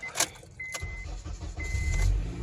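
Honda Accord with a crank-but-no-start fault, cranking and catching: a faint, muffled rumble that builds into a low engine idle, with a thin whine above it.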